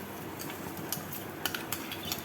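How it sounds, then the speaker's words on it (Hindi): Ground peanut, garlic and onion masala being stirred into a green chili mixture in a pan, giving a run of soft scraping and light clinking utensil taps, fairly close and without talk. "हम वो मसाला अब इसमें देखो सारा मिक्स कर देंगे इस तरह से"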